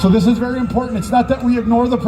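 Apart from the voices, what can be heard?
No everyday noise stands out behind the speech.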